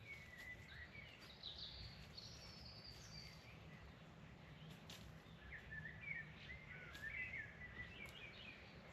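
Birds chirp and sing at dawn at a campsite, faint and distant over a steady low outdoor hum, with calls scattered through the whole stretch and no talk.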